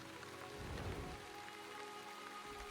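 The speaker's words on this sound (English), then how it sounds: "And we are in torrential rain." Torrential rain in the video game The Wandering Village, a soft continuous patter and hiss of downpour with faint tonal game music underneath, quiet and steady without speech.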